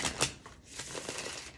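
A deck of cards is shuffled close up, with a quiet run of riffling flutters and soft slaps in irregular bursts.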